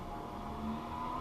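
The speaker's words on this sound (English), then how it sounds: "The cutting wheels are going to start up." An optical lens edger cuts a polycarbonate lens, its cutting wheels giving a steady mechanical whirring drone with a faint tonal whine, continuous and close.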